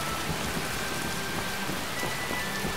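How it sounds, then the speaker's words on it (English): Steady rain patters continuously in Skyrim, with a soft, even hiss and no voices. "Hopefully this rain will keep them all indoors."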